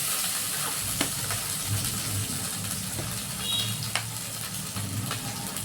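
Ginger-cumin paste and green chili paste sizzle in a hot pan with a steady, close frying hiss broken by a few faint clicks of stirring. No one talks.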